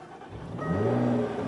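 A 2017 Jaguar F-Type S starts with a push-button ignition, the engine catching and rising into a loud, close rev that holds steady as it idles high.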